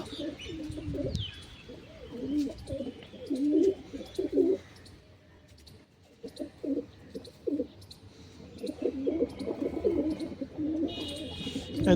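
Pigeons coo in repeated low throaty phrases, several birds close by after rain, with occasional faint chirps in the background.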